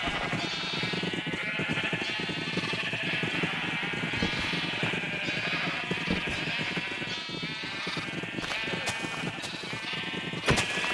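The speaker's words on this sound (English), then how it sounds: "Alright, sheep, come forth!" Sheep bleat repeatedly and fairly loud in a blocky Minecraft-style video game, overlapping cries from several animals forming a dense, continuous chorus.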